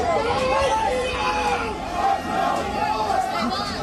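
A crowd of cricket fans clashing during unrest in Leicester, a dense roar of shouting voices and babble filling the scene steadily and loudly throughout.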